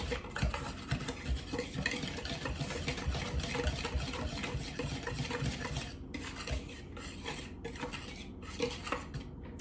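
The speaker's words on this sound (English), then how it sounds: "So we're gonna whisk this aside." Whisk rattling steadily against a bowl while dry waffle ingredients are combined, a busy continuous scraping and clinking that runs loud and close, thinning into short separate strokes toward the end; no talk.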